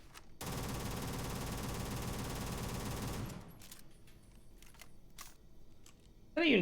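The R0 18 Raptor weapon in Starfield, a paid mod, plays a rapid mechanical reload and firing sequence: a dense, steady metallic rattle for about three seconds, followed by scattered clicks and a final sharp burst.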